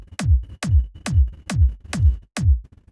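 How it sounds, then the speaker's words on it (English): An uplifting trance kick drum layered with a reversed kick: six evenly spaced, punchy booming hits, each preceded by a swelling reversed sweep, in a steady pulsing rhythm. "what you sometimes hear in these uplifting trance tracks is this reverse kick"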